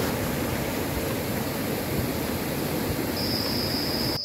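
River rushing near Curug Cipendok waterfall in Cilongok, a dense, continuous wash of flowing water, close and steady throughout with no voices.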